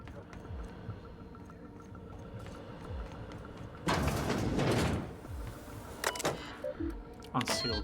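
A sliding door unseals in the sci-fi video game The Outer Worlds, a loud mechanical hiss and whoosh lasting about a second, followed by a few sharper clicks and clunks over a faint game ambience.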